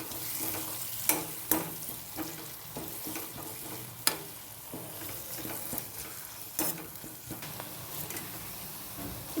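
Onions sauté in a pan with chilli powder, a soft continuous sizzle broken by sharp scrapes and clicks of a spatula at irregular intervals, close and fairly quiet.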